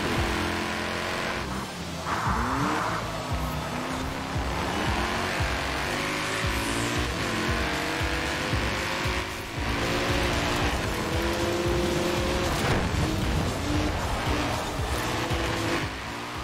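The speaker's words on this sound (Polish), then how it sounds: "Pierwszy wyścig Mercedes kontra BMW." Mercedes and BMW cars race in Forza Horizon 4, engines revving loud and continuous with repeated gear-shift pitch sweeps and occasional tire squeal, no talk over them.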